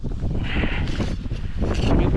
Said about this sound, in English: the wind is blowing, and there's no need to freeze